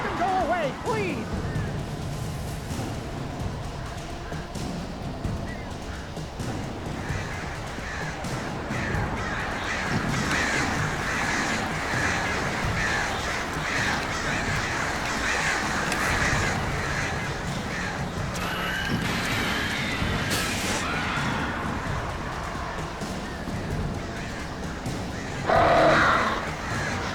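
Crows caw in the Alan Wake video game, indoors near a blocked chimney, scattered harsh calls over a dense, constant rush of game ambience and music lasting the whole stretch, with a brief louder burst near the end.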